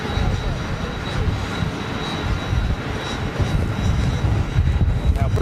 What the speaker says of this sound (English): very smart looking Iberia Express 320 Neo